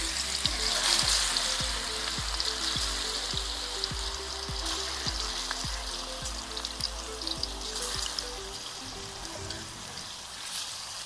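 Masala-coated chicken hits hot oil for a pepper chicken shawarma, producing a steady close sizzle and crackle that stays fairly quiet and even, with a low rhythmic thumping underneath.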